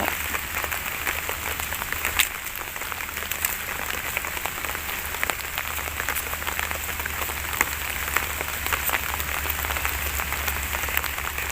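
Steady rain patters down through a bamboo grove, a dense continuous hiss with scattered sharper drops, even in loudness throughout and with no voices.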